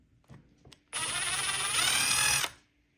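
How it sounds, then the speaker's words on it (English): A power drill bores into a screw head on a monster truck shock, a steady close whine lasting about a second and a half after a few faint clicks, then stopping abruptly. "I'm just gonna have to keep drilling it until the head pops off, and then I can get the screw out."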